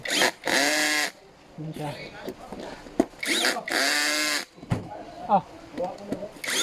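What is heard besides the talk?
power drill tightening chair bolts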